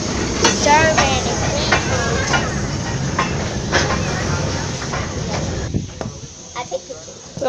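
Riding aboard a passenger train, with rumbling wheels, rattling carriage and hiss filling the car while an excited voice talks over it; the noise drops toward the end, leaving sparse clicks.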